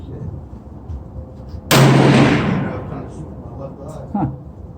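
A single loud rifle shot from a Thompson Center Venture .308 at an outdoor range, a sharp close blast with a rolling decay lasting about a second, followed by a fainter thump afterward.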